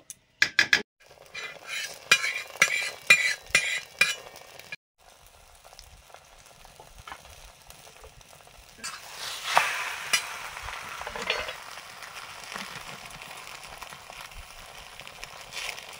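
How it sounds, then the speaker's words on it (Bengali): A paratha dipped in beaten egg sizzles and fries on a hot tawa, with a steady crackle and a few utensil clinks and scrapes, up close and without talk. "এখানেই পরোটাটা ডুবিয়ে তাওয়াতে দেব।"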